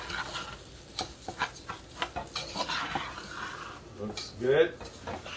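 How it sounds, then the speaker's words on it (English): Rice sizzles as it sautés in a pan for chili, with steady frying crackle and repeated scraping and clinking of a utensil stirring against the pan, while a voice briefly speaks near the end. "now let's saute the rice"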